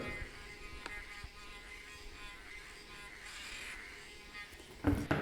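Steady high-pitched electric whine with a buzzing, insect-like drone from a DJI Phantom 4 Pro Plus remote controller being moved, holding constant at moderate volume, then a sharp burst of handling noise near the end.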